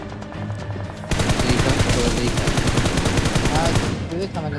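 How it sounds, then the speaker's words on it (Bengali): Automatic gunfire in the PUBG Mobile battle royale game rattles in a long continuous burst of rapid shots, loud and close, preceded and followed by scattered single shots. "বট মারার সাথে সাথে আমার উপর দিয়ে না একটা ফায়ার দিছিল"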